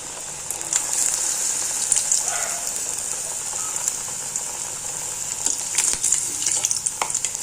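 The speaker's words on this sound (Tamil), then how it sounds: "பரட்டி விட்டு நல்லா வேக வச்சு எடுக்க வேண்டியது தான்." Onion vadai, a thick onion fritter, fries steadily in hot oil with a bright continuous sizzle and scattered small pops and crackles, close up with no talking.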